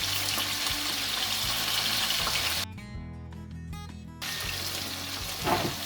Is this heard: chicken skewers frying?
yes